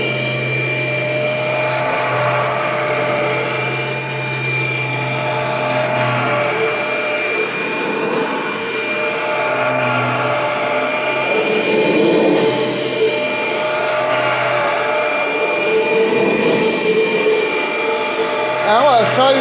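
A 1994 Kirby Generation 4 80th Anniversary upright vacuum cleaner runs continuously, a loud steady motor whine with airy roar, rising and dipping slightly as it is pushed across the floor, close up and alone.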